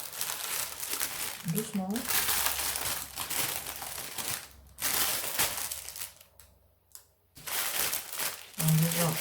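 A crinkly plastic parcel sachet from an AliExpress order is handled and opened, with dense rustling and crinkling bursts running nearly throughout, pausing briefly, under quiet French talk close by.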